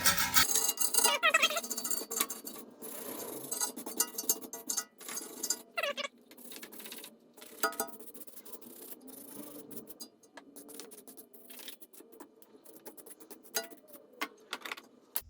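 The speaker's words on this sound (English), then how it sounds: "I'm just going to grab a wire brush and just kind of get rid of some of this crust" A wire brush scrubs crust off bicycle rear brake parts on a Kona bike, with close, scratchy rasping strokes in irregular bursts and short pauses, loud at first and then lighter.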